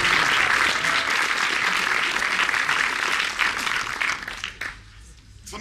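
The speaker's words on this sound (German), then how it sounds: "Wo bleibt der Applaus?" A crowd at an outdoor event applauds loudly and densely, then thins out into scattered claps and fades toward the end.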